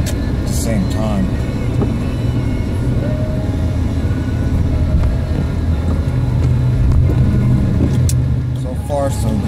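Steady rumble of a car driving along a road in light traffic, recorded from inside the vehicle, with constant engine and road noise and a few faint higher squeaks and ticks.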